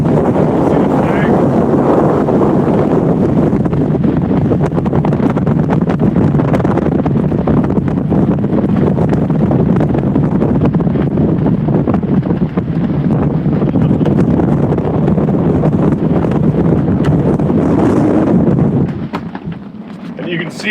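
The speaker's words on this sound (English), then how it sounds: "Very, very windy." Strong tropical storm wind buffets the microphone on a boat in a loud, continuous roar with gusty surges, easing off just before the end.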